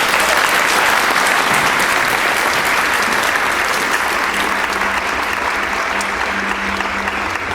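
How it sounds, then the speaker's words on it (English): An audience applauds community members and artists at a cultural event in Dublin, a dense, steady wash of clapping that holds loud and even for the whole stretch without voices on top. "I think we should have a round of applause for the members of the community and artists"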